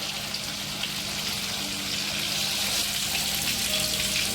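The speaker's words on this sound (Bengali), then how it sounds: "এবার মাছটা এই পিঠটাও ভাজা হয়ে গেছে" Bele fish frying in a pan gives a steady, close sizzle with a dense crackling hiss that holds evenly throughout, a faint metallic clink near the start and no voices.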